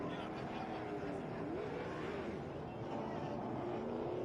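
NASCAR Pinty's Series race car engines at Edmonton International Raceway, a steady loud roar of several cars with rising and falling engine pitch as they pass, under continuous race commentary.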